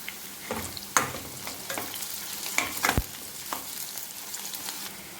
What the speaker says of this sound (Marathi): त्यात थोडीशी लसणाची पेस्ट घालत आहोत आपण